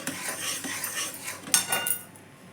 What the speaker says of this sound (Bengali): সমানে নাড়তে হবে এটাকে